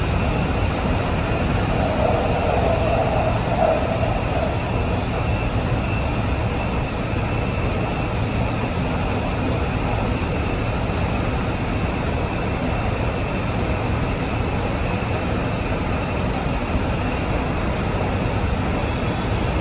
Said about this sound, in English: These trains reach speeds up to about 100 kilometres an hour in some sections.